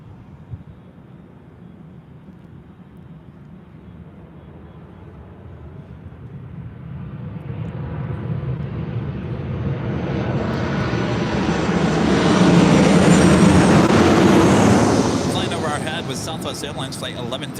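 An Emirates Airbus A380 departs from the north side at LAX, its jet roar building steadily from a distant rumble to a loud, broad peak as it climbs past, then easing slightly, with people talking faintly underneath.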